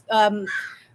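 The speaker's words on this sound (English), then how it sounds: "Sorry for the birds." A crow caws outdoors, a single harsh, close call followed by a rougher trailing note.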